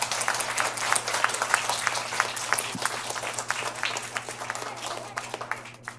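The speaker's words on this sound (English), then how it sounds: "let's give a big round of applause to" A steady round of applause from an audience at an Explorers Club event, dense clapping throughout that tapers off at the end, over a faint low hum.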